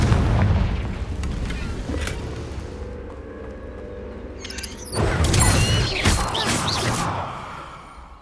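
Fiery Confringo spell blasts in Hogwarts Legacy during a fight with poachers: deep booming explosions with crackling debris, a softer rumble in the middle, then a louder burst of blasts.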